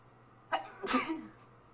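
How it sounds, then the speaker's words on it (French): A single close sneeze, a quick breathy intake followed by a sharp burst, in a quiet room. "Puis j'ai le goût d'éternuer comme ça."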